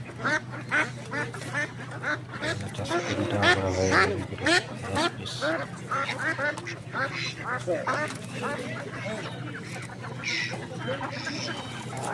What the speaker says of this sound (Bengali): এখানে অনেকগুলো হাঁস বিক্রি হয়। মজুমন হাট, এটা আমাদের গ্রামীণ হাট।